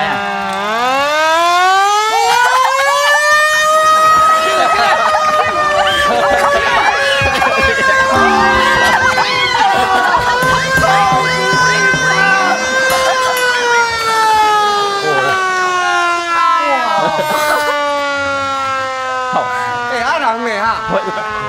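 An antique car's siren-like horn wails loud and close, rising in pitch, holding, then sliding slowly back down over about twenty seconds. Voices and excited chatter come through beneath it.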